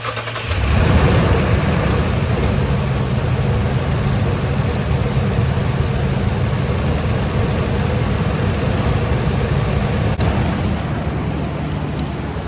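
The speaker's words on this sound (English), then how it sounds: "I'm gonna go ahead and start my engine up." A 2014 Toyota Tundra pickup engine cranks and catches, then settles into a steady, loud idle that rumbles on without a break.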